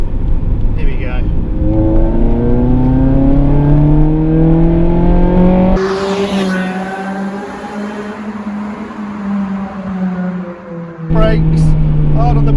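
A car fitted with a Japspeed single exit exhaust pulls hard in third gear, the engine note climbing in pitch, easing off briefly, then rising again as it revs up, loud and close from inside the cabin.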